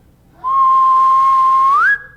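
A person whistles a single sustained note during a radio whistling contest, holding it steady for over a second before sliding upward at the end, close and loud with no talk.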